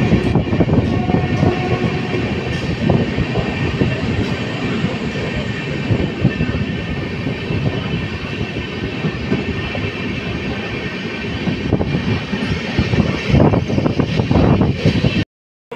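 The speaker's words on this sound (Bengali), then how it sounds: "ট্রেন ছেড়ে দিল।" A passenger train pulls out of a station after a short halt and runs on the rails, its rumble and rhythmic wheel clatter heard steady and loud from on board, with a faint horn and some wheel squeal.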